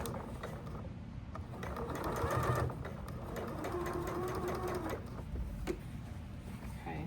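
A sewing machine runs steadily for about seven seconds, stitching through the flap of a messenger bag, with a continuous mechanical whir and rapid needle clatter that briefly swells louder partway through.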